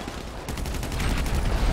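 A grenade blast and crackling gunfire in GTA 5 Online fill a short loud stretch, with a low rumble swelling into a dense rattle of shots partway through.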